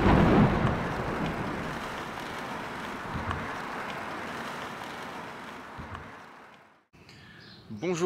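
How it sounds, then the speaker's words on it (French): Steady rain with rumbling thunder at a campsite near Teotihuacan, Mexico, a dense broadband wash filling most of the clip before dropping off, with a brief noisy return at the end. "il pleut."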